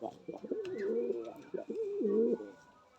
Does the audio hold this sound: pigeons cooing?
yes